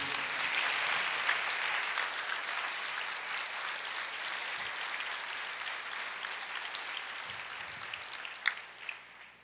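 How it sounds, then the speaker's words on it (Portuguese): Church congregation applauding at an Easter resurrection service, a steady, fairly soft wash of clapping that fills the whole stretch, slightly distant, with a couple of sharper claps near the end. "Você pode aplaudir o Senhor?"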